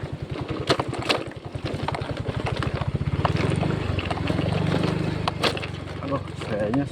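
A motorcycle ridden at night on a rainy trail through plantation land, its engine thumping in rapid low pulses that smooth into a steadier drone as it revs, heard close with someone talking over it.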